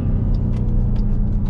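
A supercharged 2021 Dodge Durango SRT Hellcat engine drones heavily while driving, with a continuous deep rumble from inside the cabin and no talk.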